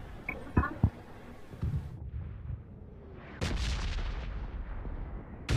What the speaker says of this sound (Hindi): घर के अंदर बॉम्ब कैसे गिर गया